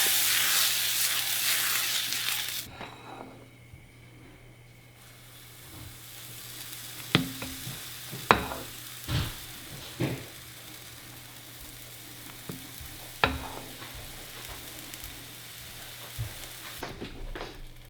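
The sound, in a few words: pancakes frying in buttered pan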